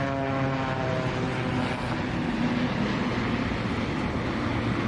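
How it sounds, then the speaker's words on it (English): A ram air turbine propeller deployed on a Boeing 787 gives a steady, loud whirring drone with sustained tonal harmonics that run unbroken for the full length and cut off sharply at the end. "let's see the Boeing 787 with a ram air turbine working."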